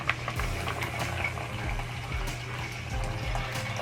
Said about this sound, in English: going to boil like that for 45 minutes